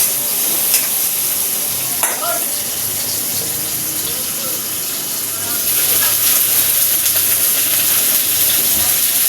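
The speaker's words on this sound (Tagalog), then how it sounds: "Nauna ko na pong ginisa yung bawang, sibuyas, kamatis." Garlic, onion and tomato sautéing in a pan, a constant loud bright sizzle with a few stirring scrapes, and a voice talking faintly in the background.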